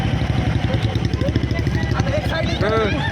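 Many motorcycles roll past together in a crowded bike rally, their engines droning loudly and continuously close by, with a voice talking over the steady rumble.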